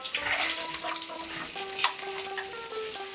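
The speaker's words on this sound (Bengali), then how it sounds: "মিডিয়াম টু লো ফ্লেমে আমি এটাকে উল্টে পাল্টে ভেজে নেব।" Rohu fish frying in a pan over medium-low flame, a steady close sizzle with faint clinks from turning the pieces, no talk.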